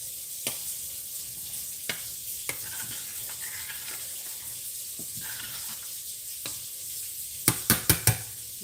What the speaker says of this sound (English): because the sweet potatoes are heavy, you do have to stir this often